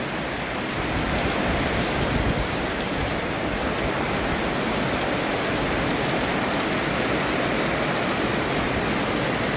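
Steady heavy rain pours down over a rice field during the harvest, a dense, even hiss of drops that is close and constant throughout, with no voices.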